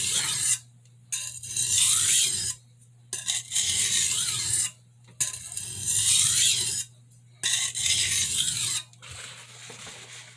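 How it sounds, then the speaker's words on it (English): Santoku knife drawn across a medium crystalline sharpening stone in repeated long rasping strokes of steady, even scraping, separated by brief pauses, close and alone. "I'm just letting this medium crystalline stone cut steel"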